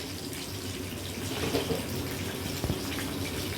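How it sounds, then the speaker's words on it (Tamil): Water is poured into a cooking pot for mushroom biryani, a steady splashing stream with a couple of louder gulps near the end, close and alone. "இப்போ தேவையான அளவு தண்ணி ஊற்றிக்கலாம்"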